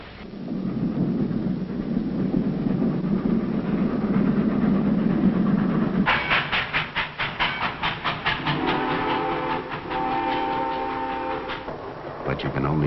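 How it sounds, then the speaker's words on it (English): A low, heavy rumble gives way to the rhythmic clacking of a train's wheels on the rails, loud and close, with sustained whistle-like tones. "The one sure way to get someplace is on a train."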